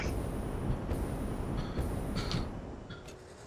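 A train passes in the factory-building video game Satisfactory with a continuous rolling rumble and a few sharp metallic clanks, fading a little toward the end, and no talking over it.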